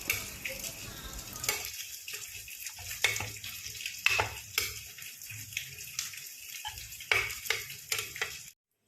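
Vegetables cooking in a pot of Thai curry on the stove: bubbling and sizzling with intermittent stirring and soft clatter that rise and fall in bursts, then the sound stops abruptly.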